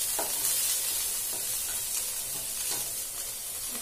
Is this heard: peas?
yes